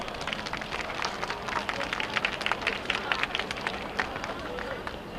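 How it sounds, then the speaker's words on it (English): An audience at a Taiwanese American cultural festival ceremony in San Francisco gives government officials and VIPs a round of applause, dense clapping rising and fading over several seconds. "Let's give them all, once again, a round of applause."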